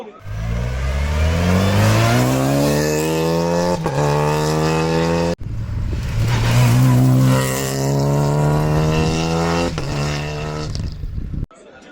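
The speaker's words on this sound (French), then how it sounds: "Et vous avez une Clio de rallye." Renault Clio rally car engine revving hard in long rising sweeps at a charity supercar gathering, loud and close, with two sustained pulls separated by a brief break.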